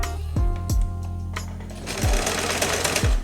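An Usha Janome Dream Stitch sewing machine runs in short bursts, each one starting with a low motor whir and then running into a fast rattle of stitching, close and loud, with no one talking.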